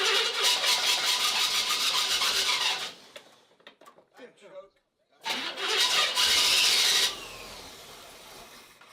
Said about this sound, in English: That's that choke sticking again.